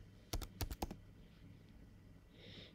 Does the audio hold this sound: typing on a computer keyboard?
yes